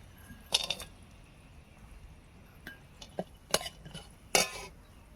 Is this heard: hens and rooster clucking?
no